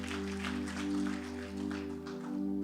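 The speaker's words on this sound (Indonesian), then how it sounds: "Tepuk tangan yang panjang buat Tuhan." A church congregation claps in sustained applause during a worship service, a dense even patter lasting a few seconds over a steady low instrumental drone.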